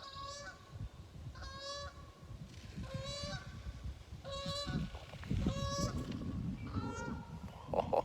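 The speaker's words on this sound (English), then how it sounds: "listen to the song of the geese" Geese honking in a loose flock, a series of nasal two-part calls repeating every second or so at moderate distance over a soft outdoor rumble.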